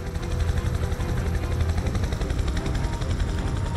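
Helicopter from the video game Prototype 2 arriving to land, a loud, steady rotor chop with dense thumping beats throughout, close and continuous with no talking.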